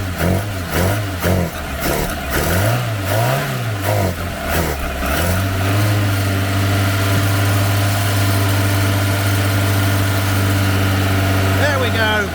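A Ford Capri engine found sitting in a garden cranks in rhythmic pulses for several seconds, then catches and settles into a steady loud idle, with voices heard over it.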